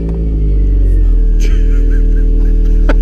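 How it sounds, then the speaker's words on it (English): A Toyota MR2's tyres briefly spin as the car drives forward off a ramp during a home oil change, a loud engine rumble and revving close by with short tyre squeals, while people talk over it. "You like wheel spinned off it."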